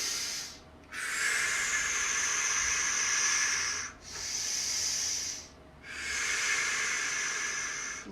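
Slow, deep breaths during a seated chair yoga stretch: three long, airy exhalations, each held for a couple of seconds with brief pauses between, close and steady, with no talking.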